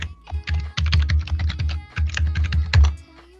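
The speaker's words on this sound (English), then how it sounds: "I'll go ahead and type in my password" A password is typed on a computer keyboard in a rapid, uneven run of close plastic key clicks. The typing pauses briefly partway through, then a final key press ends it.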